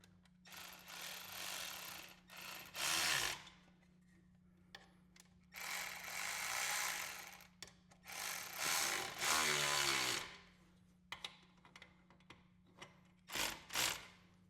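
A power tool tightens the exhaust muffler clamp on a Khrome Werks 4-inch slip-on fitted to a Harley-Davidson, in several loud, close whirring bursts of varying length separated by quiet gaps.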